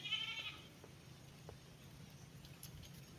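A goat bleats once, faint and somewhat distant, at the very start, followed by quiet outdoor ambience with soft scattered taps and rustles.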